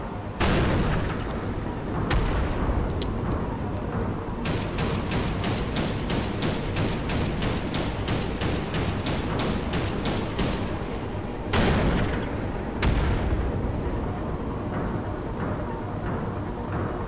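A SeaWiz close-in weapon system on a carrier firing at incoming missiles in Carrier Command 2, rapid rhythmic bursts of cannon fire over a loud constant rumble, punctuated by a few heavy booms.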